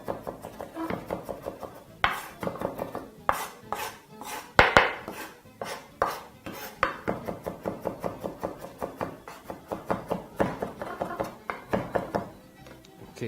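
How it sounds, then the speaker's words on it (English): A knife chops water chestnuts finely on a board for Vietnamese dumplings, with quick rhythmic knocks in bursts and a few louder clacks, close and clear. "Just proceed to chop finely as you would for coriander or parsley."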